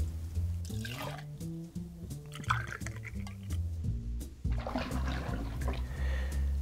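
Gordon's gin poured into a measure, up to 90 milliliters, with a gurgling, trickling liquid flow that rises and falls in short bursts over a low background hum, no talk.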